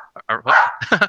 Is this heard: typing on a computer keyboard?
no